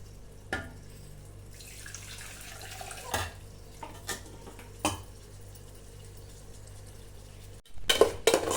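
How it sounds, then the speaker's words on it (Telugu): Masala being stirred into chicken in a metal pot for a spicy Karnataka-style chicken curry, with a few sharp spoon scrapes and clinks against the pot over a quiet background, and a louder clatter near the end. "దీన్ని ఒకసారి బాగా మిక్స్ చేసుకోవాలండి."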